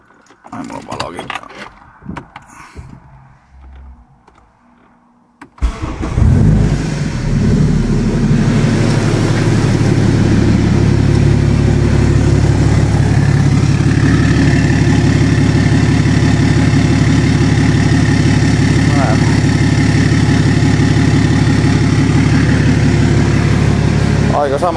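A BMW 335i engine cranks and fires after a few seconds of quiet handling noises, then settles into a loud, steady idle with a deep even rumble that continues close up to the end.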